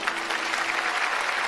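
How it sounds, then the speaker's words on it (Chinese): Brief burst of warm audience applause for two guests at a television awards gala, steady dense clapping from a large crowd, with no voices over it. "再次掌声送给两位哈"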